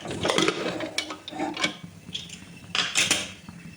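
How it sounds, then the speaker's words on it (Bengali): Malabar spinach leaves stirred in a pan produce irregular clanks and scrapes of a utensil against metal in short bursts, fairly faint, with no voice. "পাতাগুলো দিয়ে একটু নাড়ি চাড়িয়ে নেব"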